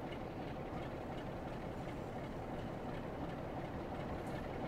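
A diesel train engine in the Train Sim World 2 game on a West Cornwall local route rumbles steadily, a dense low idling roar with faint rail clatter, continuous and close.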